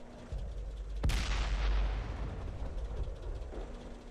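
A tank cannon in World of Tanks fires with a single sharp, booming crack that rolls off into a long low rumble over a steady engine drone.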